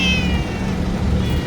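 A cat meows loudly and insistently up close, its drawn-out, wavering cries continuing over a steady background hum.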